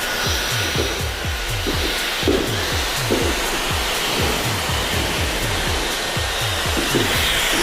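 A hair dryer runs steadily close by for blow-drying hair during a layered edge haircut, its continuous airy roar broken by repeated low pulses as the nozzle moves, with no talking.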